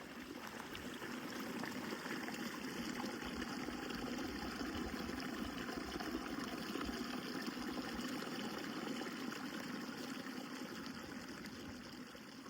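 Mountain spring in the Ruby Mountains trickling and running steadily, a continuous close burble of flowing water with no pauses, fairly quiet and alone without voices.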